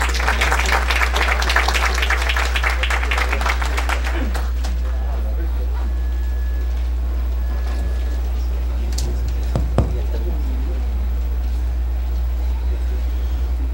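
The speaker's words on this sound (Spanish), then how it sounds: "Lo recibimos con un fuerte aplauso, por favor." Audience applause welcoming a panelist at an engineering forum, dense clapping for about four seconds that then fades, leaving a low steady hum and a few scattered sounds.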